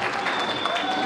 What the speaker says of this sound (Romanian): Vă rog să o aplaudăm.